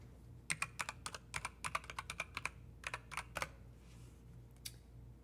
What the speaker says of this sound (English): Hold on, let me clicky clack. I'm clicky clacking.